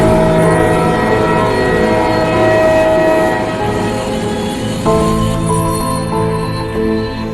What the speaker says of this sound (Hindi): और वो देखो, ट्रेन आ भी गई है।